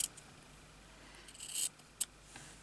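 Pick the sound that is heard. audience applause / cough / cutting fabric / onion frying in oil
cutting fabric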